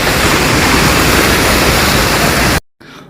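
Water from the Merlion statue fountain in Singapore rushes and splashes in a loud, steady, close roar, then cuts off abruptly near the end.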